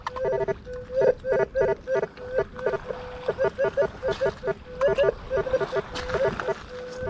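A metal detector beeps in short repeated tones at a steady pitch, choppy and rhythmic, signalling iron while searching on the Thames in London, with faint background noise.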